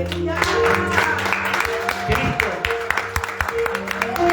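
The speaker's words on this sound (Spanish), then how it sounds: "Denle un aplauso al Señor." A congregation at an evangelistic church service claps in scattered applause under music and a voice speaking, the claps coming in irregular bursts close by.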